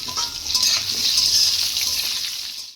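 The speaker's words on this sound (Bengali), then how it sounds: "আলুগুলোকে লাল লাল করে ভেজে নেব।" Fresh, evenly cut new potatoes sizzle steadily in hot oil in a pan, a bright continuous crackle with light stirring, close and alone before tailing off.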